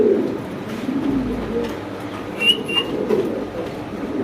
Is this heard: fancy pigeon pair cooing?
yes